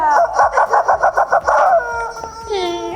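A rooster crows close and loud, a rapid pulsing series of about nine strained calls followed by a drawn-out tail, with brief clucking near the end.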